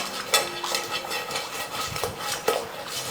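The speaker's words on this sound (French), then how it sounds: "Et alors, on va mélanger nos crevettes." A spoon stirs marinated shrimp (gambas) back and forth in a bowl, giving a steady close scraping and sloshing with a few sharper clinks of metal on the dish; no one speaks.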